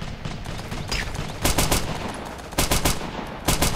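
Gunfire from the video game Operation Flashpoint 2, with a steady bed of distant battle noise broken by three sharp clustered bursts of rapid shots, loud and close, around the middle and end.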